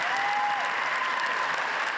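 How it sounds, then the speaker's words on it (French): Long, sustained applause fills a hall at the opening of a session of debates, a dense, even wash of many hands clapping with no pause, with a faint tonal whistle briefly on top. "Et ces longs, très longs applaudissements à l'ouverture des débats"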